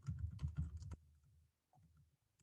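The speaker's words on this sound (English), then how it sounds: "I'm typing this in the chat." Quiet, close typing on a computer keyboard: a quick burst of key clicks, then a few sparse, softer taps, with no speech.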